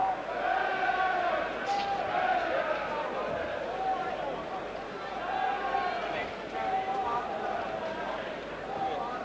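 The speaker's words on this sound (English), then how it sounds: "He's ignoring the noise that's been in the crowd." A boxing arena crowd at a Nigel Benn bout roars steadily throughout, a dense broad wash of many voices with faint shouts rising now and then, while commentators talk over it.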